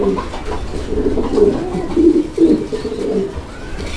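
Fancy pigeons at a bird market coo in repeated low, throaty calls, several birds close by over steady background murmur and crowd noise.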